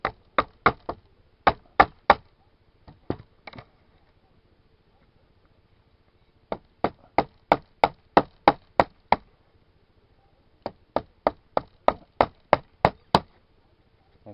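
Sharp wooden knocks come in quick bursts of about six to eight hits each, with pauses between, as boards of good dry lumber are hammered loose from a cabin build. The hits are loud and close with no talk.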